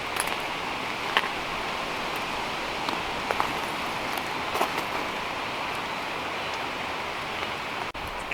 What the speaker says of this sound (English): Kind of drizzling a little bit right now